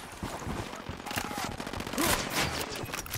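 Automatic gunfire in Ghost Recon Wildlands during a firefight, with rapid rattling bursts of shots going off steadily in a fast rhythm at moderate loudness.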